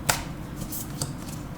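Card drawn from a Moonology oracle deck, a few quick close papery flicks and slides, soft and brief over a quiet room.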